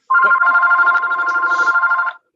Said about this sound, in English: I'm shutting off the phone.